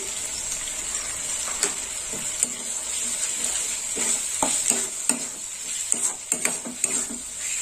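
Chopped tomato sautéed with salt in a pan for prawn malai curry, giving a steady bright sizzle with irregular scraping stir strokes and occasional clacks of the spoon against the pan, close up and without talk.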